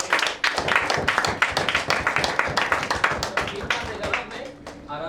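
Loud, dense applause and clapping from an audience in a recruitment training session, continuous across the whole stretch with sharp overlapping hand claps and little pause.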